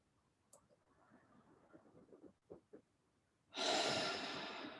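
Slow, soft breaths in and out during a guided breathwork exercise, faint and close, ending in a long loud rushing exhale.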